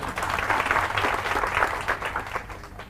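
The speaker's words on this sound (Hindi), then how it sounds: "तो इनके लिए तालियां बजाओ एक बार" A room full of people at a training session in India applauding steadily for about three seconds, a dense wash of clapping that stays loud throughout before easing slightly at the end.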